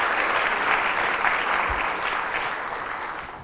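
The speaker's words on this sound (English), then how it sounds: "Give them a round of applause, please." An audience at a debate event breaks into steady applause, a dense, moderately distant clapping that continues evenly throughout without any voices.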